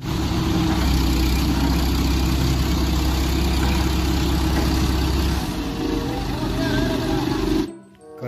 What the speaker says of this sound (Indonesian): Mobil derek, teman-teman.